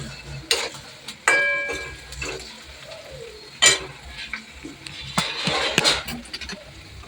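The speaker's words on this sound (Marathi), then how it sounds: "कांदा गोल्डन ब्राऊन होत आहे" Chopped onions fry in a pan with a little salt while a spoon stirs them, a steady close sizzle broken by clinks and scrapes of the utensil against the pan, no voices.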